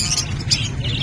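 Small caged birds at the Obando pet bird market, including blue dilute and opaline parakeet types, chirp in high, brief calls over a steady low market hum, with no speech.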